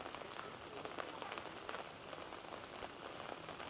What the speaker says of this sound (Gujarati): સુરત શહેરમાં ફરી એક વખત ધોધમાર વરસાદની શરૂઆત થઈ છે